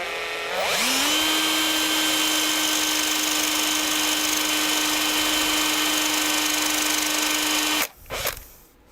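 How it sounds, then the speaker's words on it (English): An LTT electric screwdriver, used while building a Sovol SV08 toolchanger 3D printer, spins up to a steady, loud, high whine. It holds for about seven seconds, then stops with a short clatter. "The LTT screwdriver is making too much noise,"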